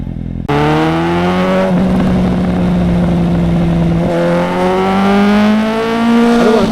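Suzuki GSX-S750 motorcycle exhaust heard from the rider's seat, a steady loud engine drone that rises and falls through gear changes with a rising pull near the end, no talk.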